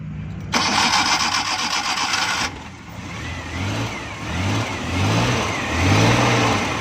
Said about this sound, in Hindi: अब हम गाड़ी को स्टार्ट करेंगे